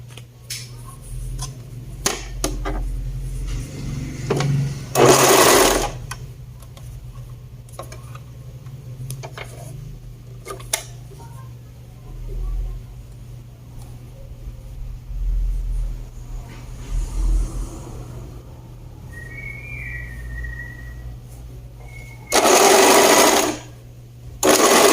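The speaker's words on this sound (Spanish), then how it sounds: "Y voy y coso del otro lado también." A sewing machine stitches the other side of a blouse in short, loud whirring runs separated by quiet pauses, with faint handling clicks and rustles between bursts.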